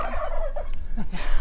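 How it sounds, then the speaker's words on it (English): Wild turkeys gobble in a canyon reservoir area in Colorado, a burst of rapid warbling calls repeated in quick succession at moderate distance, with steady outdoor background noise. "there are wild turkeys and cows living down"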